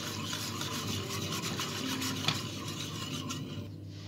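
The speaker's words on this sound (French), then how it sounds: "Donc là je vais remuer pendant 2 bonnes minutes, de 3 minutes afin que la crème épaississe." A utensil scrapes and rubs steadily against the bottom of a saucepan while stirring thickening orange cream, a continuous close-up stirring rasp with no talking.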